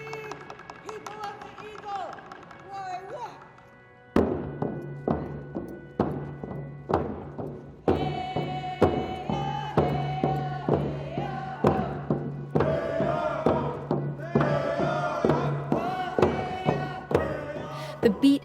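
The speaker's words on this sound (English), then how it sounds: "The beat and song reverberates through the streets of downtown" The Yees dance group drums a steady, heavy beat while singers chant in Sealaska Plaza in downtown Juneau, Alaska; rhythmic thumps with a sustained sung melody, after a quieter opening of singing.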